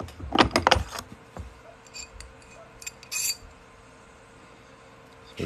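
Metal coin ring made from a quarter being sized on a ring stretcher reducer: sharp metallic clinks and jangles up close, a dense cluster early, then scattered taps and a brief scrape.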